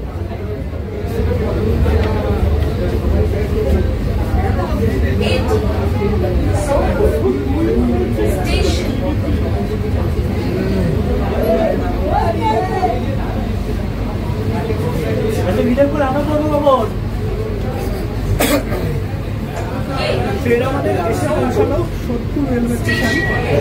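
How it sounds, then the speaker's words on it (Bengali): An AC local train pulling into Sodepur station, a steady rumble of the moving carriages running beneath a constant babble of passengers' voices, with a few clanks and knocks along the way. "সোদপুর স্টেশনে ট্রেন ঢুকে গেছে, দরজা খুলবে এবং আমি এই স্টেশনে নেমে যাব।"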